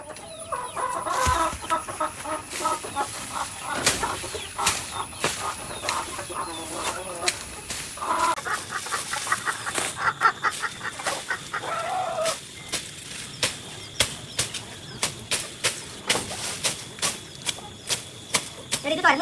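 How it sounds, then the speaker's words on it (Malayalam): Chickens cluck and squawk loudly and excitedly on a rural homestead, with repeated sharp calls and some wing flapping, while a person talks nearby. "കോഴികളിങ്ങനെ അന്തം വിട്ട് കരയുന്നുണ്ട്"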